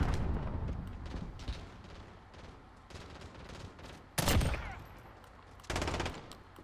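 Video game gunfire in Modern Warfare: scattered bursts of rapid automatic shots and a few sharp louder blasts, mid-distance, in an online multiplayer match.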